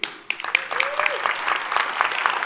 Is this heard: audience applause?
yes